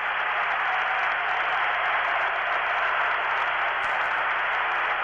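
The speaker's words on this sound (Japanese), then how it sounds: "この古賀の優勝に温かい拍手ですよ" A dense, continuous wash of arena applause greets Koga's 71 kg title win at the 1991 World Judo Championships, steady and even from start to finish without a break.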